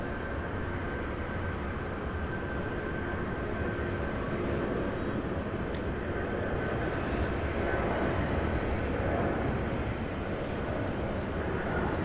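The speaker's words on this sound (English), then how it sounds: "Oh, we have a takeoff. Look at that. I thought I heard some engines pulling up." A fixed-wing airplane takes off at SDF airport, its engines a loud continuous roar that swells steadily, with no talking.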